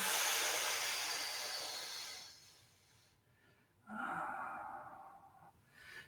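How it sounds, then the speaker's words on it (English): A person breathes in and out slowly during a shiatsu lung stretch: a long soft exhale first, a quiet pause, then a shorter breath, all close and faint. "Breathing in and breathing out."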